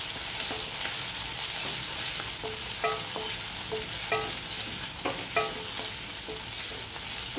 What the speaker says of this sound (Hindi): मैंने इसमें अनियन जो काट के रखी थी, चॉप किए हुए अनियन भी इसमें ऐड कर दिए है।